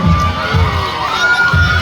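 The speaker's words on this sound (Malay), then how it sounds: "Ayo berikan tepukan paling gemuruh untuk kontinjen Rumah Hijau Rumah Temanggung." A crowd at a school sports meet cheers loudly for the Green House Temanggung contingent, with children shouting and voices swelling and falling in waves, close and continuous.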